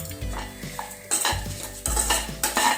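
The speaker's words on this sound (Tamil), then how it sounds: "நல்ல மிளகு போட்டு நல்லா மிக்ஸ் பண்ணி நல்லா வறுத்துக்கிட்டே இருக்கணும்" Black pepper stirred and roasted in a pan for drumstick theeyal: repeated scraping strokes of a spoon across the metal with a soft background sizzle, close and fairly loud, with no talking.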